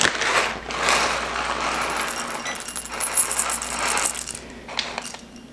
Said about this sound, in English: we're gonna need to grind us some coffee